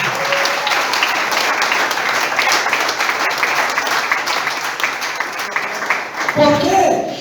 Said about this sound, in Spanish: Aplaudan.